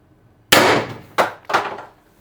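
An X-68 air-powered launcher fires an 8.4 gram Smasher XL round with a sharp, loud crack, followed by two quicker metallic snaps as the mechanism cycles, close-up with no talking.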